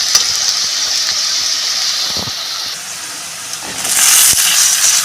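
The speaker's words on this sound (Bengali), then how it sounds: "এঁচড়টা দিয়ে দিচ্ছি এটার সঙ্গে ভালো করে কষিয়ে নেব" Young jackfruit pieces hiss and sizzle in hot oil in a pan as they are stirred with a spatula, a dense close frying sound that swells louder near the end.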